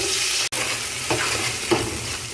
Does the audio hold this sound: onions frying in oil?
yes